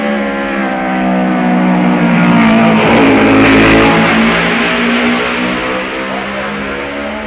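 A racing motorcycle at the 1966 Isle of Man TT roars past, rising to a loud near howl around the middle and fading away, with a strong harmonic engine whine.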